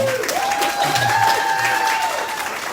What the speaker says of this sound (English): Please give a round of applause to Morgan and Rachel.